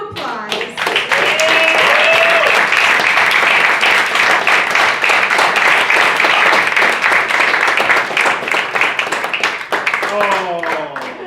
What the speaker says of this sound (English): So please give all of them a round of applause.